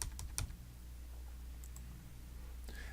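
Numbers typed on a computer keyboard while entering values in an Excel spreadsheet: a quick burst of faint clicks at the start, then quiet with a few soft taps near the end.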